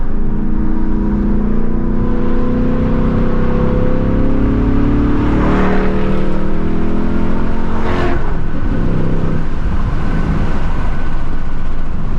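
A 2024 Ford Mustang GT engine revs up hard, its pitch climbing through several gear shifts with loud roaring pulls, close and sustained with no talking.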